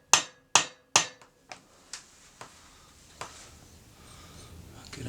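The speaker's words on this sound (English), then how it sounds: "I'm just going to use a soft mallet hammer. Give it a little tap in." Several sharp taps of a soft mallet seating a part over a rear dowel during a 2002 Triumph Bonneville America engine rebuild, three firm knocks then quicker fading lighter taps, close up with no talk.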